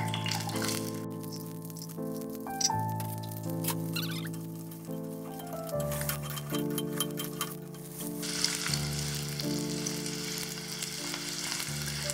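Small onions fry in hot oil, crackling and sizzling steadily and close up throughout, while a sustained musical backing of shifting tones plays underneath.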